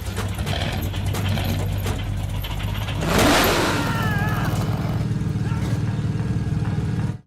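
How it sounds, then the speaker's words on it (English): In a cartoon car, the engine breaks loose and falls out with a sudden burst of mechanical clatter and grinding partway through. A steady motor hum runs before and after the crash. "His entire engine gets ripped out"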